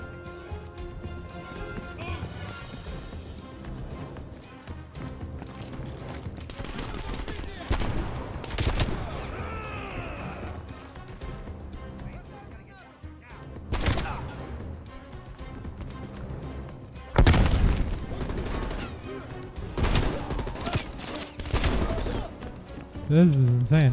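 A gunship's heavy gun firing in Call of Duty Black Ops Cold War, with loud bursts of rapid fire and booming impacts over a dense game soundtrack and a busy battle mix.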